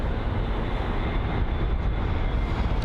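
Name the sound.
British Airways Airbus A320neo aircraft at London Heathrow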